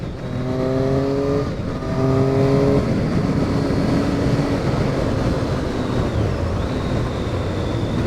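A 2007 Triumph Street Triple 675 motorcycle engine revs hard under acceleration, rising harmonic tones climbing in two pulls before settling into a steady loud drone, heard close with wind and road noise.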